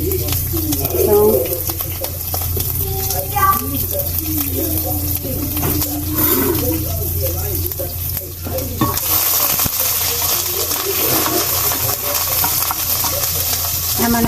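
Food sizzling and frying in a pan with steady crackle and occasional stirring scrapes, birds cooing in the background and a person talking intermittently over the cooking.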